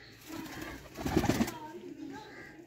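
Teddy pigeons coo softly in a brief, low, throaty burst from close by, a few rolling notes mixed with faint rustling.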